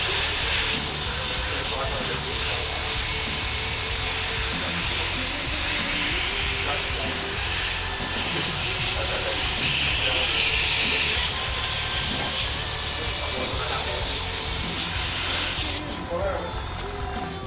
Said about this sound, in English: so I'm using the airbrush to try and get in there.